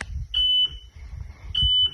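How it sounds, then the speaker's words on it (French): A Vivensis VX10 Nova satellite signal finder gives two steady electronic beeps about a second apart while a Ku-band dish is being aligned, clear over a faint low rumble. "là on a déjà un bip ici"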